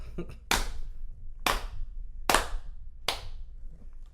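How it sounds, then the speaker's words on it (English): Four slow, sharp hand claps, close and spaced about a second apart, each ringing briefly into near silence. "Slow clap."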